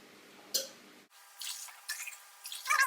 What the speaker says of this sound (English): So you pour that back and forth, you see all the bubbles in the water.